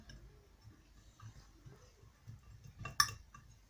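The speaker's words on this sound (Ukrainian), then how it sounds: "включити духовку, щоб вона розігрілася" A kitchen oven switched on to preheat gives one sharp, close click near the end, standing out from a quiet, faint room background.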